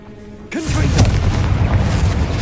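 Confringo spell explosion in Hogwarts Legacy: a sudden loud, near boom after a short quiet lead-in, followed by a sustained rumbling, crackling blast that carries on for two seconds.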